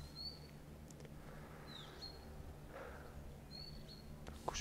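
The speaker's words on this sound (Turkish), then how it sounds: "Kuş seslerini duyuyorsunuz değil mi?" Faint, sparse bird chirps sound at a distance over a steady low rumble of outdoor background noise.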